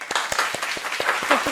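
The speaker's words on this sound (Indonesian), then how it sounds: "Beri tepuk tangan untuk Ibu Raisa" A small group claps to welcome a guest onto an Indonesian podcast, with a short, loose burst of distinct, uneven hand claps close to the microphone and a voice faintly underneath.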